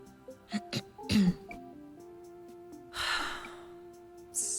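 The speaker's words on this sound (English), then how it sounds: "Just clearing my throat." A character in Dreamfall: The Longest Journey clears her throat in a few short, rough bursts, then gasps and exhales breathily, fairly close against a quiet, humming background.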